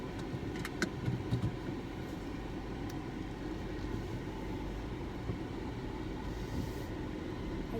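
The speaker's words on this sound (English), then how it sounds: "we're in the car again" Steady low road rumble and engine drone inside a moving car on a drive home from the gym, continuous and even throughout with a few faint clicks, no talking.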